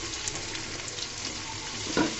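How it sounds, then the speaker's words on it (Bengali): Onions frying in a hot pan give a steady close sizzle throughout, with a brief louder stir or scrape near the end and no speech. "পেঁয়াজগুলোকে লাল লাল করে ভেজে নিব।"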